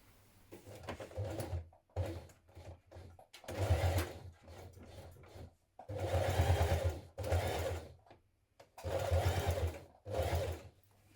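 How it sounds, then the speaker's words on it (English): A sewing machine runs in bursts of several seconds with short pauses between, edge stitching pockets onto the lower skirt of dungarees, a steady close mechanical whir each time. "we're going to edge stitch around each pocket"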